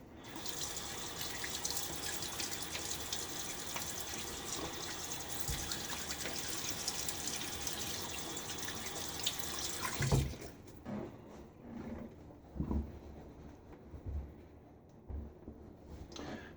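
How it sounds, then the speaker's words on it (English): Steady running tap water rinses a safety razor for about ten seconds after a shave with a Blackland Dart and Gillette Silver Blue blade, then stops, leaving scattered drips and small splashes in a quiet bathroom sink. "A little half rinse."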